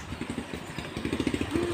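A motorcycle rolls past nearby on a road in Caleruega, Batangas City, its engine putting out a rapid uneven chug that grows slightly louder toward the end.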